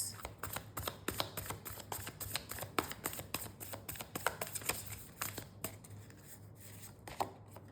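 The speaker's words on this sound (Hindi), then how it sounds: "आप लोगों के सामने मैंने शफलिंग करी है" Tarot cards riffle and slap in a quick, uneven run of crisp, close flicks, loud and busy at first and thinning out toward the end, with no talking over them.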